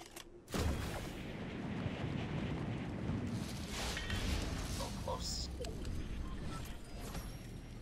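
A launch pad fires a player into the air in the Fortnite battle royale game, a sudden loud whoosh that gives way to sustained rushing wind noise through the rest of the clip, with a few faint higher sounds over it.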